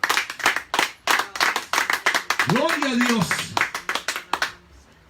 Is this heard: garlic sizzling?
no